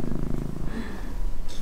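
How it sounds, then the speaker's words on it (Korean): A cat purrs close up in a steady, rhythmic low rumble throughout, with no voices. "근데 골골거리고"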